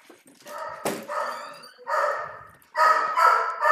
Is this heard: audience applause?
no